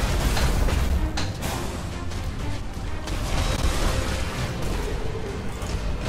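Booming explosions from a Tyranid fleet space battle video game, a spore mine burst among rumbling blasts, steady and loud throughout with dense low-end roar and a few sharper cracks.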